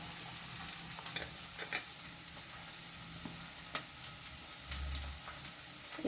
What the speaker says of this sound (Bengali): পেঁয়াজটাকে একটু নাড়াঘাটা করে নিলাম। এরপরে দিয়ে দিলাম বিনস